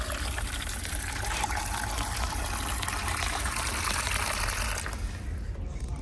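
Water runs steadily in an outdoor setting at the front of a land development project, a continuous broadband rush that stays loud and even before easing slightly near the end.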